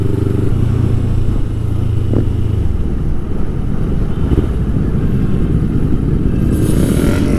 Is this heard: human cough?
no